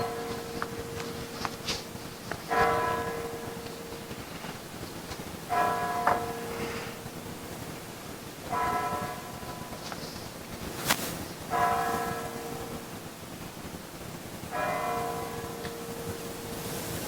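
Church bells ring in slow, evenly spaced strikes, each leaving a resonant ringing tone that decays over a couple of seconds, heard from a distance inside a quiet classroom with faint room noise.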